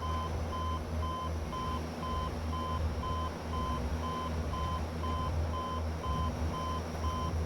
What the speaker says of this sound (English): Firewall our engines, and let the beeping begin.